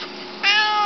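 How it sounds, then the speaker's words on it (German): A glossy black tomcat gives a single close, clear meow that swells into a drawn-out tone in the second half, with no talking over it. "Ja, du bist ein schöner Kater."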